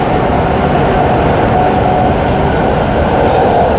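Loud, steady rumble of a Perth suburban train riding toward Bayswater station, with a dense continuous roar of wheels and carriage noise from inside the car and no voices.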